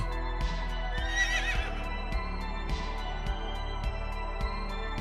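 A horse at a stable gives a loud, shrill whinny that rises and falls, then a second, shorter neigh. A steady mechanical hum and regular light clicks run underneath.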